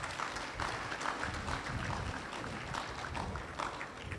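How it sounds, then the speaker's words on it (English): Audience applause at an award ceremony, a continuous wash of clapping at moderate distance, fairly quiet and even for a few seconds. "we need to give Cosme a round of applause for their support in this event"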